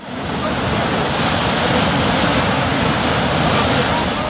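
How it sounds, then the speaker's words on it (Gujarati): A loud, steady rush of water gushing up from a borewell fills the whole clip, broadband and continuous like a powerful jet or fountain, with no pauses. "પેટાળમાંથી પાણીનો જબ્બર ફુવારો"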